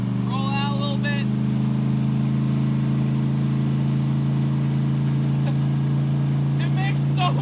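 A Chevrolet El Camino Z28's engine idles low and steady as the car begins to roll out. Brief speech comes at the start and again at the end.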